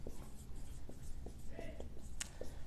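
Marker or chalk writing abbreviations on a classroom board, faint scratchy strokes and taps spread through a steady room-noise background.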